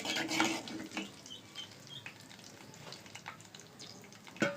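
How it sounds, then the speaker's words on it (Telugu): Mustard seeds and cumin fry in hot oil, a soft crackling sizzle with a few sharper pops near the start and end, fairly faint and close, with no voices. "నూనె వేడైంది. ఇప్పుడు ఆవాలు జీలకర్ర వేసుకున్నాము."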